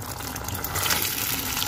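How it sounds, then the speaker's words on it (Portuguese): A small amount of water is poured into a sausage sauce cooking for hot dogs, a short, steady splashing trickle heard up close with no talking. "colocar água, um pouquinho só de água."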